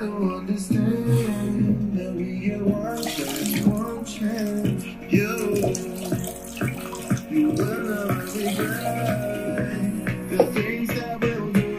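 Water splashes and streams steadily over a Zealot S34 Bluetooth speaker while music keeps playing loudly from it, the pouring continuous throughout.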